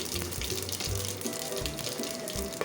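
Water poured into a pressure cooker of whole spices for chicken dum biryani rice, a steady close splashing and gurgling with low pulsing glugs throughout.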